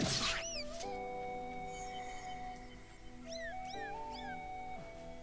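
Video game cats in Skyward Sword let out several short meows over a steady musical background, close and moderately loud, with no voices.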